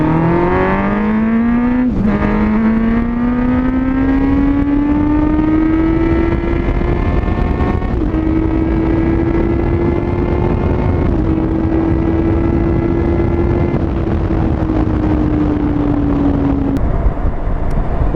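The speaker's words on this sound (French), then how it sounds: "j'ai dû mettre un extrait de la vidéo où j'accélérais convenablement dessus, et on entend chanter ce fabuleux silencieux en carbone" A Yamaha Fazer 600 motorcycle with a carbon silencer accelerates hard through several gear changes, its loud, steady exhaust note climbing and briefly dipping between shifts for about eighteen seconds, with no talking.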